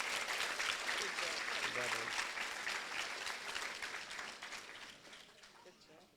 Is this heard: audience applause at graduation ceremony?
yes